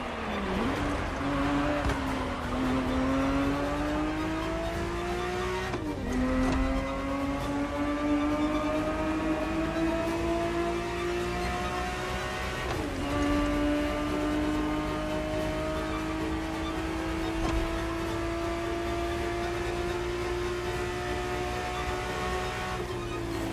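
A Ferrari 365 GTB4 in The Crew Motorfest drones steadily up close, its engine note climbing through gears with brief dips at each shift, holding a sustained, even roar throughout.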